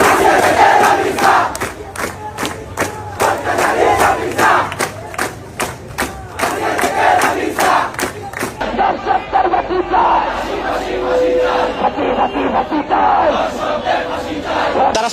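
Protest crowd in Bangladesh chanting slogans demanding justice for the killing of Ramisa, a dense, loud mass of voices with rhythmic shouted bursts and claps throughout, thinning into a broader murmur toward the end.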